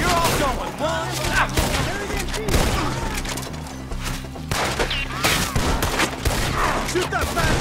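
Gunfire in Red Dead Redemption 2 during a fight with Skinners: repeated loud shots and volleys cracking at irregular intervals, mixed with shouting voices and a low rumbling music bed.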